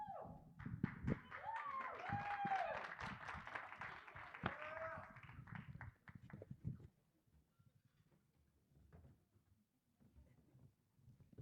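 An audience applauds people onto a stage at a San Jose civic event, a loud burst of clapping lasting several seconds that fades into scattered claps and quiet room noise.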